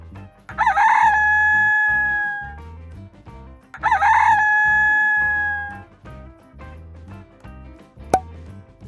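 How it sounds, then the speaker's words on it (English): A hen gives two long, drawn-out crowing calls, each about a second and a half, loud and clear over a steady looping backing music track. "This is a hen."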